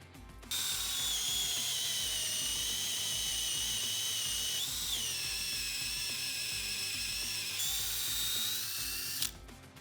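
A power drill whines at high pitch while boring holes into a wooden board, running continuously and loud for about nine seconds with slight shifts in speed partway through.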